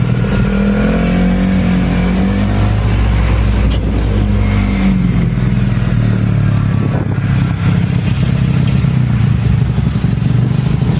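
A four-wheeled vehicle driven fast over a bumpy road, its loud engine roaring and revving up close with rattling clatter as it bounces along, and no voices.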